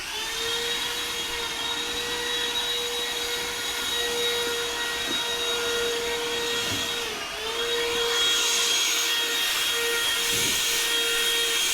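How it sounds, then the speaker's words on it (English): Loud, steady whine of a leaf blower running continuously as it blows fine dust out of a garage door, with a brief dip in pitch partway through before the roar resumes. "this particular unit comes in handy, is to just blow them out the door"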